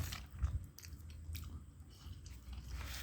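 Someone eating southern Thai yellow curry with pineapple and papaya at a restaurant, with close, soft biting and chewing sounds, moist crunches and squishes in a quiet room, no talking.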